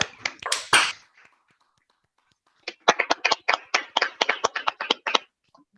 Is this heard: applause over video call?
yes